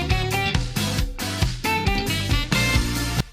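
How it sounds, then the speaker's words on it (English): Upbeat, bright Mario Kart 8 Deluxe racing track music with live-sounding band instruments, busy and loud, playing continuously in a short excerpt. "It sounds very nice with all the live instrumentals playing"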